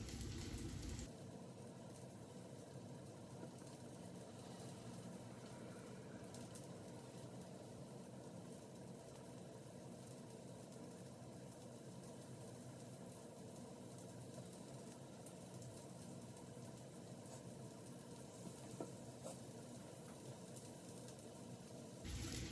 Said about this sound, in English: We're just trying to get a good sear on these meatballs